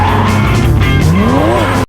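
A getaway car in a bank robbery chase accelerates hard, its engine note rising steadily as the tires squeal, loud and close, with no voices.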